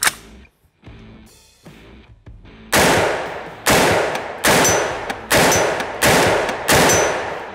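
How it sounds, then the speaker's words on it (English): An AR-15 pistol with a short 7.5-inch barrel and a muzzle brake fires five sharp, loud shots in a fairly steady rhythm, each ringing briefly before the next, preceded by quieter handling clicks. "I'm getting the blast coming out of the side chambers directly in my face"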